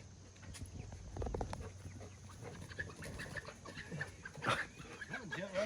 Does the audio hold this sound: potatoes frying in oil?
no